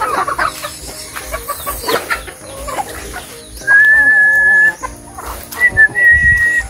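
A laying hen, penned on a Filipino backyard farm, clucks and cackles in a close, irregular run of calls, with sustained higher squawks in the second half and other bird noises around.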